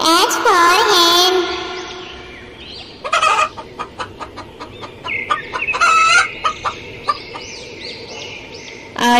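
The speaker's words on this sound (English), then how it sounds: "H for hen." Hen clucking in a farmyard, a run of short rhythmic clucks and squawks, fairly close, following a brief higher cackling call at the start, with no speech over it.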